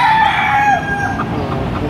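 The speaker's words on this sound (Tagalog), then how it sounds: "Ganda manok nito." A Talisayan-type rooster at a poultry market in Padre Garcia, Batangas crows loudly and close by in one long, drawn-out call that trails off over about two seconds.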